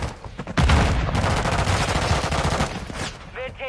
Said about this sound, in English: It played the audio of me shooting.